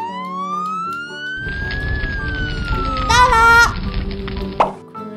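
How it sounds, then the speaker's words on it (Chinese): A toy fire truck's electronic siren wails in a slowly rising and falling tone, loud and close, with plastic clattering and mechanical rattling from the toy beneath it. "坐上消防车，"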